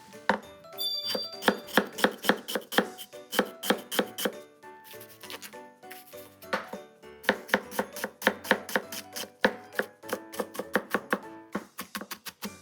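A kitchen knife chops onion on a cutting board in quick, crisp, close strokes that come in rhythmic bursts with short pauses between runs.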